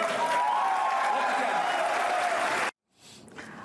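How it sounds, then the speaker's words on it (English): Loud applause from a crowd, steady clapping that cuts off abruptly, followed by a quiet moment with faint sound. "that is a deafening applause"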